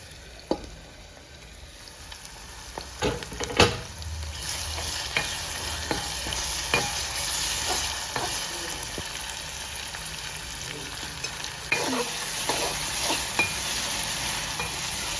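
Salted fish pieces with garlic fry in a pan for a fish curry, a steady close sizzle running throughout with frequent sharp scrapes and taps of the stirring spoon and no talk.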